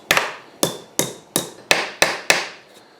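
Hammer taps on the steering stem of a Honda XR250R dirt bike, seating it into place: seven sharp, close metallic knocks in a steady rhythm, each ringing briefly before the next.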